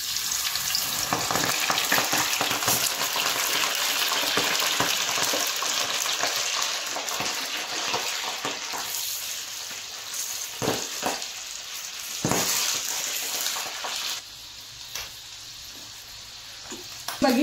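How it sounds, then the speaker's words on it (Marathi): Corn kernels fry in hot oil over a high flame, a loud, continuous sizzle and crackle with scattered sharp pops and spits, close up and without speech. "बघितलं ना आता असे फटफट फुटत असतात हे कॉर्न"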